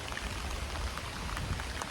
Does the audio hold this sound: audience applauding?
no